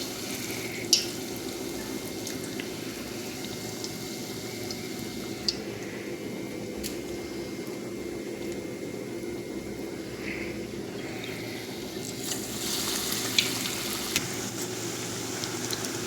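Cheese balls coated in breadcrumbs frying in hot oil, a steady soft bubbling sizzle with faint crackles and occasional small pops throughout, no talking.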